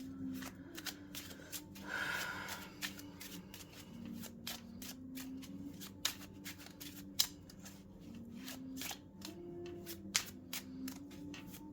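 Tarot cards shuffled and drawn during a reading, a long run of crisp, close card flicks and riffles with sharp snaps over a faint steady background hum, with no talk.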